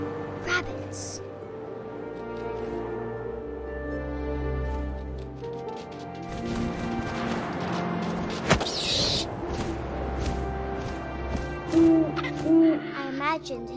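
An owl hoots in the video game What Remains of Edith Finch, low hoots over wind and ambient game sound, with a narrating voice speaking through much of it.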